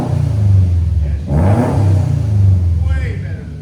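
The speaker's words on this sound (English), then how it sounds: "Just rev it normal now. Rev it normal." A 2015 Subaru WRX STI fitted with downpipes and a Flowmaster exhaust revs up, a loud, close, throaty engine note that swells twice, with brief voices faintly underneath.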